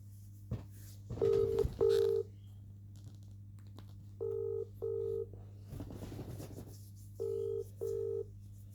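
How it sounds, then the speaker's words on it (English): A phone call to a law-firm line: six paired DTMF dialing tones in three short bursts, each beep clear and evenly spaced, over a steady low electrical hum with a brief rustle between groups. "Ring up Jonathan Smith."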